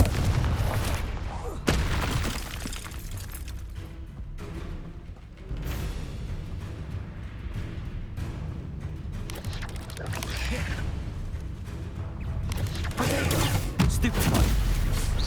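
Booming spell blasts and explosive impacts in Hogwarts Legacy combat, a string of loud bursts and rumbling hits over roughly fifteen seconds, with a voice calling out spell names between them.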